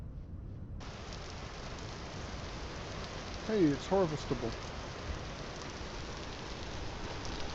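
Steady rain hiss in the video game Vintage Story fills the scene throughout, an even broadband wash with a brief spoken remark over it midway.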